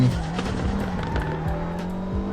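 A modified GR Supra drifts in the FR Legends racing game, with a continuous, strained engine note and tire squeal through a corner. It is loud and close and fills the whole short stretch.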